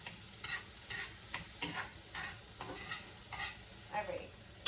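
Pancakes cook in a buttered pan, a soft steady sizzle interrupted by repeated scraping and stirring strokes of a utensil, close and moderately quiet, with no talking.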